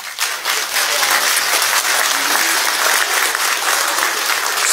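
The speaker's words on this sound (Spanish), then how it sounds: "Un aplauso para nuestro presidente Evo." Applause for the president at an outdoor union assembly in Bolivia, a dense, steady roar of many hands clapping together, loud and continuous throughout with a faint crowd murmur beneath.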